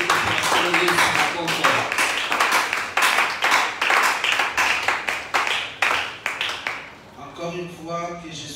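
Congregation in a church applauding the Lord, a steady run of rhythmic hand claps mixed with voices that fades out near the end as a voice continues alone.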